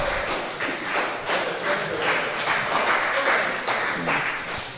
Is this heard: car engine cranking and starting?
no